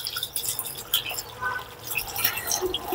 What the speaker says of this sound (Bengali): প্রথমে আমি মিষ্টি কুমড়ার খোসাটা ধুয়ে নিই।